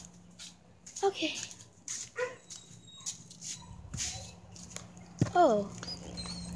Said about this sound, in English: this is our neighbor's dog, Belle.